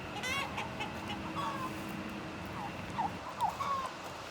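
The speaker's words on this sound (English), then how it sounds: "Chicken is over there clucking, mad about something." A chicken clucks agitatedly in a few short, irregular bursts at a moderate distance over an outdoor morning backdrop, with turkeys nearby.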